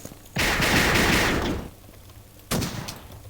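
Gunfire in the Assault Cube video game: a loud sustained burst of automatic fire lasting about a second, a pause, then another burst starts. No speech.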